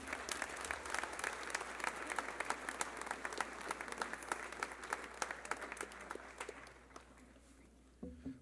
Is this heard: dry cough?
no